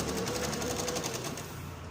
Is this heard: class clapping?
no